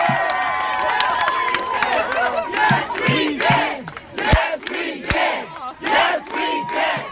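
A large crowd at a nighttime political rally cheers and shouts in loud surging bursts, with claps and scattered whoops rising and falling over several seconds.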